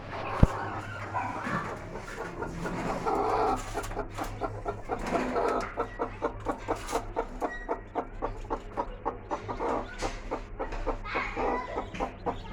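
A hen with newly hatched chicks, six hatched from a clutch of fifteen eggs, cheeps in steady rapid pulses close by. Soft clucking sits under the chirps and a low hum runs throughout.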